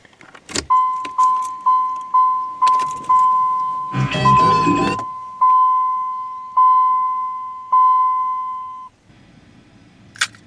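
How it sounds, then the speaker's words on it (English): A 1995 Chevrolet Monte Carlo LS warning chime in cold winter weather, lower pitched, repeats in a steady series, briefly interrupted by a burst of clattering noise, then continues with slower tones before a soft click. "in the cold, the chime pitch gets lower"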